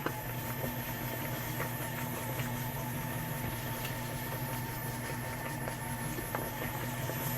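KYS Pro Baker 7+ spiral mixer running at higher speed, a steady loud motor hum and churning whir with faint tonal whine, continuous and unchanging throughout, no talking.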